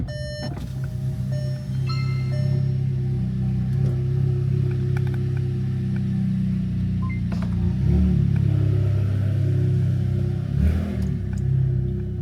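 A tuned Volkswagen Jetta GLI with a louder turbo drives along, its engine holding a steady low rumble with rising and falling revs, close and loud, with faint electronic chimes early on and no talk.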